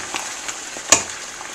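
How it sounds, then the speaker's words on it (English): Greens fry in a pan on a homestead kitchen stove with a soft, steady sizzle and a brief sharper crackle partway through, close and fairly quiet. "we're going to be frying up the greens."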